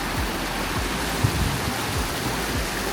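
Constant hiss of a waterfall heard from its top in the Sweden–Norway border mountains, an even close wash of falling water with faint low thumps beneath, no talking.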